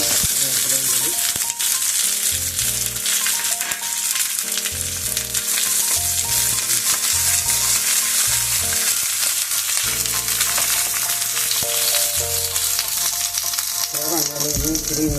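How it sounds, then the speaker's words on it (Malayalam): Onions and curry leaves sizzle steadily in hot oil for a fish curry, the frying loud and continuous beneath music, with faint stirring. "എണ്ണ ചൂടായിട്ടുണ്ട്. നമുക്ക് ഉള്ളിയും വേപ്പിലയും കൂടി"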